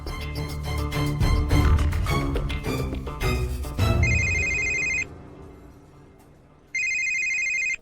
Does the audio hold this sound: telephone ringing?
yes